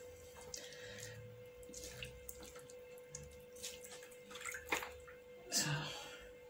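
Polwarth wool locks are rinsed by hand in water, with soft sloshing, trickling and splashing close by. A louder swish of water comes near the end.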